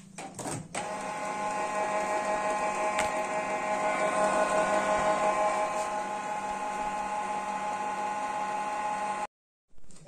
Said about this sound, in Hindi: मैं आपको प्रिंटर का किस तरह से आवाज़ दे रहा है